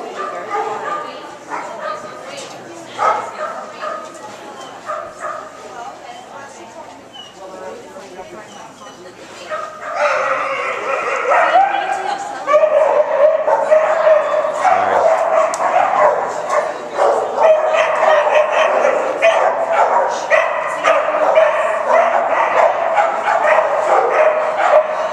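A dog barks, yips and whimpers repeatedly and close by, growing louder and more continuous in the second half, with people talking and calling out over it.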